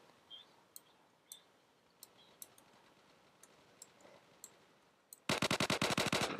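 Automatic M16 rifle fire from the Roblox game Neighborhood War: soft scattered clicks give way to a loud, rapid burst of evenly spaced shots near the end.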